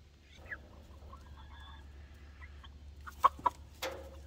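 Chickens cluck softly in the distance with a few sharper, louder squawks near the end, over a low steady hum; no one speaks.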